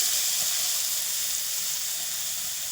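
Ground green chili, garlic and onion paste sizzles in a hot pan with a loud, steady, hissing crackle that fills the whole moment close up.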